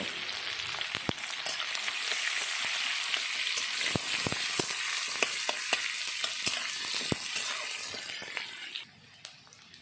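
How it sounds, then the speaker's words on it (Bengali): Chopped onion with cumin and bay leaf sizzling in hot oil in a kadai over a wood-fired clay stove, a steady dense hiss dotted with crackles and pops, easing to a quieter fizz near the end. "এখন কড়াই তেলের ভিতরে দিয়ে দিলাম জিরা আর তেজপাতা, তারপরে দিয়ে দিলাম কুচনো পেঁয়াজ।"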